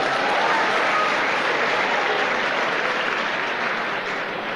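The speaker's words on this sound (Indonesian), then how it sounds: "Nah, tepuk tangan buat Bapak Ibu." An audience at a seminar talk breaks into loud, dense, steady applause that holds at full strength throughout without letting up.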